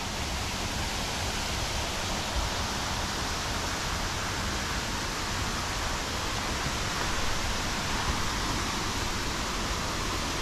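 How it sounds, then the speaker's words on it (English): Steady broadband rush of a waterfall pouring down a cliff in Bako National Park, Malaysia, constant and unbroken throughout, moderately loud with no voices. "there's a waterfall coming down the cliff right there."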